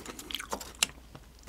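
Someone chews a large lettuce wrap of marinated freshwater eel close to the microphone, with soft wet bites and one sharper crunch amid quiet mouth sounds.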